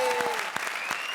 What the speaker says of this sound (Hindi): और ताली बजाओ comedy circus के लिए